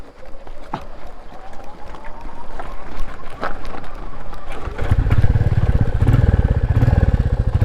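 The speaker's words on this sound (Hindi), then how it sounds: "मैं अपने पैर से थोड़ा इसे मोमेंटम लाने की कोशिश करूंगा, और जैसे ही थोड़ी स्पीड आ जाएगी मैं क्लच छोड़ के स्टार्ट करने की कोशिश करूंगा" Royal Enfield motorcycle push-started in second gear: rolling, scuffing noise and wind for several seconds, then the single-cylinder engine catches and settles into a loud, steady, close thumping idle to the end.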